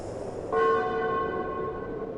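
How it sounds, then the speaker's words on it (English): A bronze bell outside a silent hut strikes once on its own, a single clear ringing note that sustains and slowly fades over a low hum, with no voices. "Then the bronze bell outside rang by itself."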